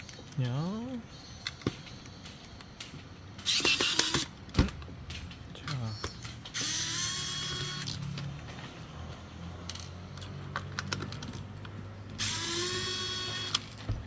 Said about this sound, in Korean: 간단하게 나사 두 개만 풀면 돼요 나사 두 개만 이렇게 풀면 되니까